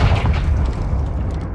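Confringo explosive spell cast in Hogwarts Legacy: a close, loud deep boom with a rumbling low-end body that decays over about a second and a half, with faint crackle on top.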